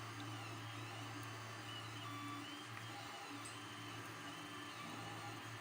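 A 3D printer laying down a gear after its adhesion layer, a faint, steady mechanical whir and hum of stepper motors running continuously, quiet and without speech.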